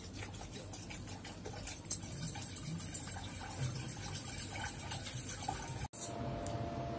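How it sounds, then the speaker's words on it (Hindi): Water pours into curd to make buttermilk, a steady close-up trickle and splash that runs for several seconds with no talking. "इसमें थोड़ा सा डालेंगे पानी,"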